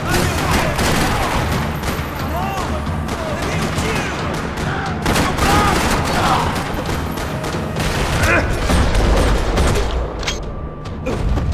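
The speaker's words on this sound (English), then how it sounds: "Another parking lot rattling with gunfire." Sustained gunfire rattles almost nonstop in a parking lot shootout in the video game Max Payne 3, dense volleys of shots and booms layered over a loud, chaotic mix with some voices.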